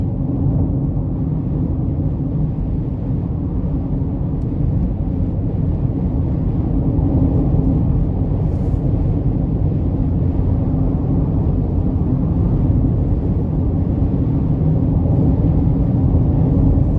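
A 2022 Chevrolet Equinox LS with a 1.5-litre turbo engine drones steadily from inside the cabin, a loud, even low rumble with road noise underneath and no talking over it.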